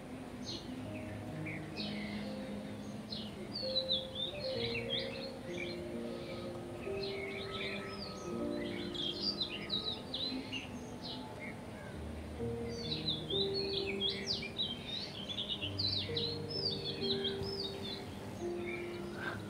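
Birds singing in a forest, many quick chirps and twittering calls scattered continuously across the scene, fairly faint and mid-distance, over a low layered musical bed.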